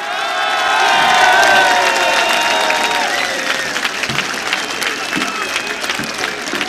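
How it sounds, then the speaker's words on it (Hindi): A large crowd at a PTI Long March political rally applauds and cheers, swelling loudly early on with whistles and shouts, then settling into sustained clapping and scattered whoops. "हाथ उठाकर तालियों की गूंज बताइए"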